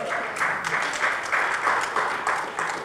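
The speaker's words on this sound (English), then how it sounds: "I hear sporadic clapping for 10th Dems." Sporadic clapping from an audience at a Democratic candidate forum, uneven bursts of hand claps repeating through the moment at moderate loudness with no talking over them.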